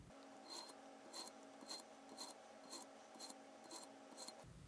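A knife is drawn through a handheld sharpener in the honing stage, eight evenly spaced rasping strokes about half a second apart, close and quiet with no talking.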